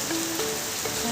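Steady rain falling outdoors in hot weather, a continuous soft hiss of drops on surfaces, fairly faint and even throughout with a faint tonal hum underneath and no talk.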